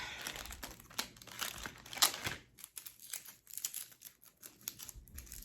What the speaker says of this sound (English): Take off this tape.